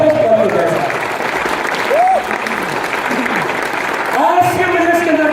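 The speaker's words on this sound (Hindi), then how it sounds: "एक बार हम चाहेंगे उनके लिए तालियां जबरदस्त करनी चाहिए" An audience claps enthusiastically at a business award event, a dense sustained round of applause with a voice speaking over it through a PA.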